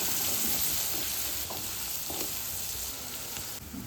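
Ground chili and garlic chutney frying in hot oil, a steady close sizzle and hiss running throughout with a few soft stirring clicks, no voices.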